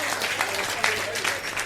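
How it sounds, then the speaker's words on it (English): A debate audience at a student election event bursts into dense, loud applause that continues steadily from start to finish, with some voices mixed into the clapping. "let's give ourselves a big hand of applause"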